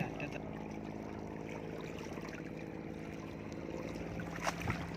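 A wooden boat is pushed slowly across a backwater lake thick with weeds, giving a steady wash of water and hull noise throughout, with faint background voices and a slightly sharper splash near the end.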